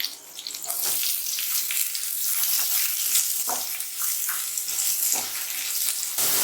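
Curry leaves and onion frying in hot oil in a pan, a loud, bright, continuous crackling sizzle with bursts of spattering and occasional stirring scrapes, close and alone.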